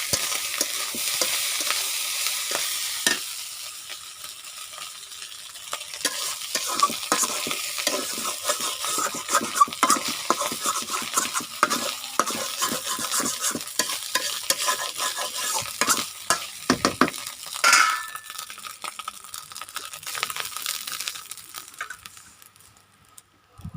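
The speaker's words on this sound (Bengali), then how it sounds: "আমার ভাত ভাজা হয়ে গেছে," Cooked rice is stir-fried in a pan, a continuous sizzle broken by frequent scraping, clattering strokes of the spatula near and loud, with no talk.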